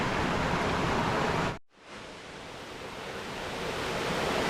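A small waterfall at Pachmarhi pours in a steady, dense rush of broadband noise, briefly cut to near silence for a moment before the flow resumes and slowly swells back to full strength.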